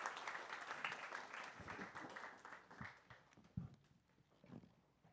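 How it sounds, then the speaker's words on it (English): Audience applause at an Open Source AI Summit, a dense patter of many hands clapping that swells then thins out into a few scattered claps, heard at a moderate distance. "Give a round of applause for Illia and Sreeram."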